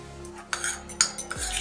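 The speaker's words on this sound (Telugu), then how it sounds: "రవ్వ మొత్తం దగ్గరకు వచ్చేదాకా కలుపుతుండాలి ఇట్లా" A spoon stirring semolina with ghee in a metal vessel, giving several sharp scraping clinks against the pot in an irregular rhythm, close and clear, with no talking.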